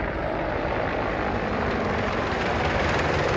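An Apache attack helicopter in Afghanistan throbs with a loud, continuous rotor and engine roar that holds steady and close throughout.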